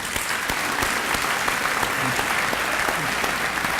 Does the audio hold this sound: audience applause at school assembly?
yes